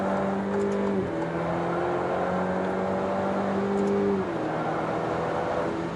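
Steady engine drone with a gliding tone that drops and shifts as an Alfa Romeo Stelvio Ti Sport with a Centerline Stradale exhaust cruises past at moderate distance, no voices over it.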